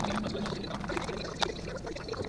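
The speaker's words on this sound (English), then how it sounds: "pour that vinegar out into another Ziploc bag" Vinegar pours out of a Ziploc bag into another bag in a kitchen, a close, steady liquid splashing and trickling with one brief sharper crinkle midway.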